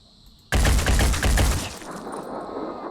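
A sudden loud burst of rapid automatic gunfire erupts in the turn-based strategy game Phoenix Point, rattling for about a second before fading into a lingering echo.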